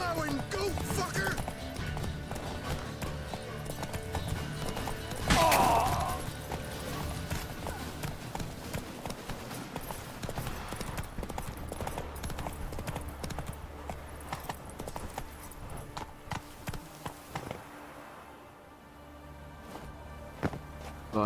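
Horse hooves clip-clopping on a path in the video game The Witcher 3, a steady continuous rhythm heard under game music and ambience, with a brief louder burst partway through.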